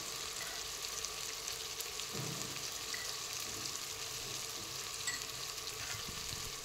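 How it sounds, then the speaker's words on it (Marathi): Salt, turmeric and red chili being stirred into a pan of cooking vegetables, a steady soft sizzle with scraping stir strokes, faint and close, no voices. "सर्व हे जे साहित्य आहे ते हलवून घेऊया"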